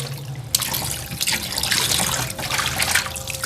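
Water trickles and splashes steadily as raw fish is washed by hand in a wide metal tray filled with water, a close, continuous running and sloshing sound with a faint tap-like hum underneath.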